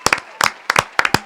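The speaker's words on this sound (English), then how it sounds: "I'm going to give her a round of applause." Several loud, close hand claps in an uneven rhythm, sharp individual slaps rather than a crowd, over a quiet room.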